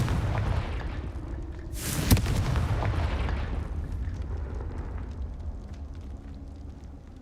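Confringo blasting spell explosion in Hogwarts Legacy: a single sharp, loud blast bursts out midway through, over a steady low rumble of game ambience that slowly fades afterward.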